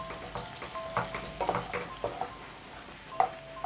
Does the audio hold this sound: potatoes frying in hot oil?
yes